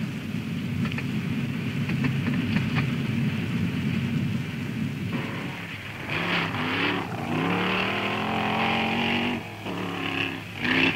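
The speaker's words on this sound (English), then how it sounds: "Driving off through the Swedish summer landscape is Bo Ljungfelt in his Falcon" A 1964 Ford Falcon rally car drives off through the Swedish summer countryside: steady rumbling background at first, then the engine note rises and surges through several revving gear pulls, fairly close.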